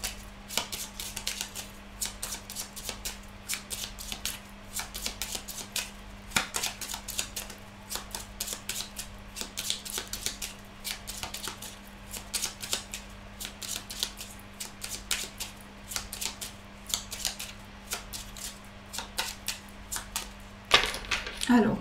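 Tarot cards are shuffled for a reading in a quiet room, producing rapid, irregular riffling clicks and flicks over a faint steady hum.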